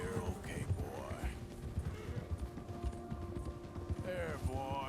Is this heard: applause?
no